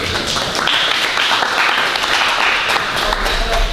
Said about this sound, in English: So I give you applause.